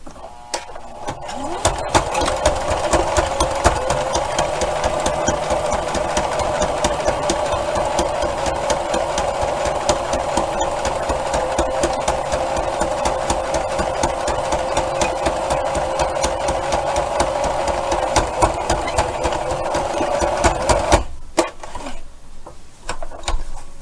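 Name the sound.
sewing machine stitching a card wallet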